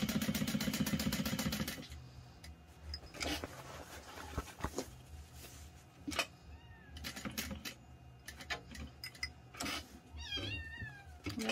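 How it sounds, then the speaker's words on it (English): Kittens meow in a few thin, high mews toward the end, close by and moderately loud over steady room noise, after a stretch of rapid machine stitching. "There go the kittens."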